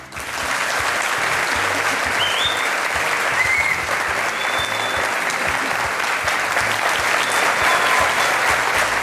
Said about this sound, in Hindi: और ये तालियों का सिलसिला बजते रहना चाहिए।